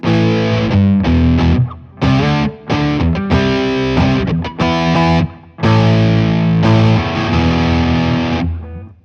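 Loud, gritty overdriven electric guitar chords through a BOSS MS-3 drive, played in bursts with brief pauses, thick and saturated with a heavy low end.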